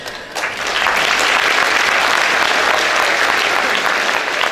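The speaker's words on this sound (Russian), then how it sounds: "Это достойно громких оваций." A crowd applauds loudly and steadily for 28 graduating officers joining the armed forces at a military university ceremony, the clapping sustained and dense from start to finish with no talk.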